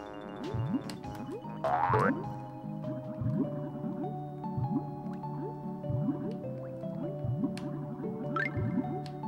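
Sewer water in the video game Banjo-Kazooie: repeated dripping, squelching plops over a steady looping musical backdrop, with one rising gurgle partway through. Moderate and continuous, with no talking.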